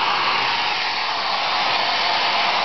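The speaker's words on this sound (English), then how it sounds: "Blow dryer." A blow dryer runs steadily and loudly, blasting hot air onto a thermistor in a temperature-sensor project, holding a constant broadband whoosh from start to finish with no talking.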